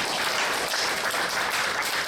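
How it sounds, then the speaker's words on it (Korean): An audience at a Korean church youth worship service applauds, a dense, steady patter of many hands clapping throughout, fairly soft and even, with no voices over it. "우리 임원들 박수 한번 줄까요?"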